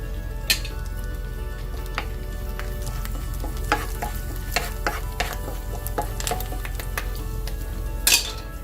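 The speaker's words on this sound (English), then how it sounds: "we're going to start with the curry leaves. You're going to throw that in the oil." Curry leaves sizzle and crackle in hot oil in a pan on the stove, a steady frying hiss with scattered sharp pops and the occasional clink of a utensil against the pan.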